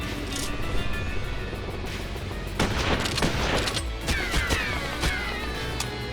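Heavy artillery gunfire in the video game Like a Dragon Infinite Wealth: a loud, dense fusillade of rapid shots and booming blasts over a steady rumbling bed, building from about the midpoint and continuing to the end.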